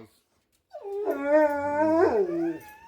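A dog in a rural Maine yard with guinea hens lets out a single drawn-out howl that wavers into whimpering yips, close and fairly loud, after a brief silence.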